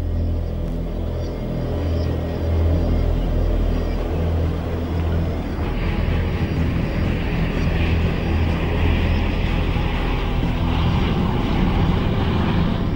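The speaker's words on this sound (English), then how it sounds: "As Trident Papa India took off for Brussels that Sunday afternoon" A Trident jet airliner taking off, heard as a steady, loud, low engine roar and rumble that holds constant throughout, with a slight brightening of jet noise midway.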